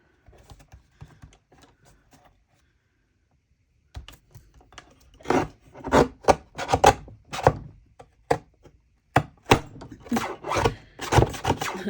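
A small paper trimmer cuts along the edge of a paper tag. After a few soft clicks and a quiet stretch, a series of sharp crisp slicing and clacking strokes comes close and loud.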